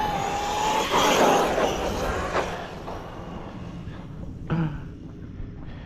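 An Arrma Kraton 6S RC car fitted with a single-wheel wheelie bar accelerates on dirt, a rising motor whine building and then fading, with a few sharp broadband bursts as it moves away.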